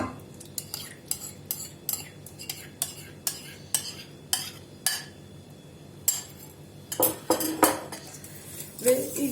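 Yogurt and eggs are whisked together in a large bowl for a Turkish yayla soup with chickpeas and cracked wheat. A utensil makes a steady series of sharp clinks against the bowl, growing busier and louder toward the end.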